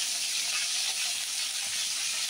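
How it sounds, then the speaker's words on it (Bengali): Cumin, onion and garlic frying in hot oil, a steady, even hiss of sizzling that holds close and unbroken throughout, with no voices. "তেলে জিরে দিলাম, জিরে দিয়ে এই পেঁয়াজ রসুন এগুলো একটু ভেজে নেব"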